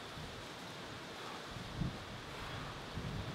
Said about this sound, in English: The wind's blowing me.